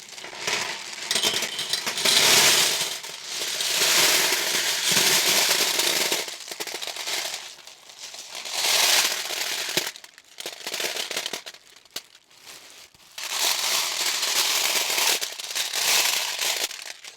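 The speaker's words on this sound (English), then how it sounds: "we want to go ahead and add the rocks to the middle for the glass rocks" Glass fire rocks poured into the center of a Bali Outdoors 42-inch fire table, a loud clinking, rattling cascade in several long bursts separated by short pauses.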